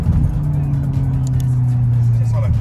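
A VW Golf 8 GTI Clubsport on a launch-control start, its engine holding a steady loud drone that builds and shifts near the end, with a voice talking over it.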